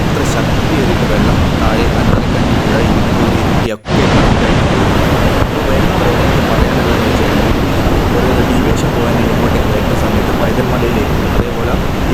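The Ezharakkund waterfall in Kannur, fed from Paithal Mala, roars with loud, dense rushing water that fills the whole clip, broken only by a momentary dropout.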